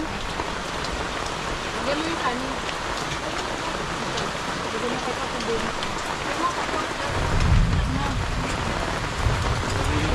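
Steady heavy rain pours down on a surface nearby, a dense hiss with a low rumble swelling briefly toward the end.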